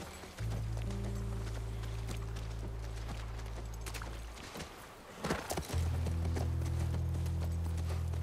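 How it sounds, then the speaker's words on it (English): Steady horse hoofbeats in The Last of Us Part 1 clip-clop at a running pace, loud and close, pausing briefly before picking up again with a low rumbling backdrop. "That's our horse."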